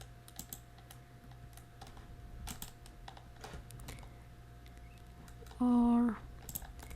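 Computer keyboard and mouse clicks during CAD modeling work, sparse light taps scattered through a quiet stretch, fairly close, with a brief steady tone near the end.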